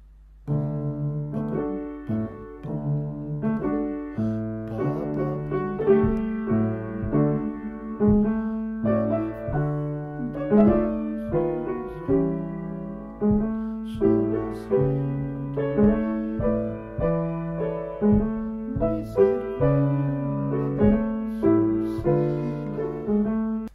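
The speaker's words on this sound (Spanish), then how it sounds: "Esto es lo que también conocemos con el nombre de habanera" Solo piano plays Albéniz's Tango from España, a lilting habanera with a steady dotted bass pattern under chords and melody, clear and continuous with no voices.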